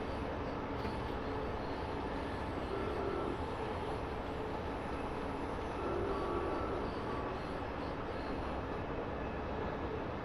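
A BR 442 regional train runs on the Werdenfelsbahn line toward Munich in Train Simulator, giving a steady, even rolling rumble and hum from the cab that holds constant throughout with no talking.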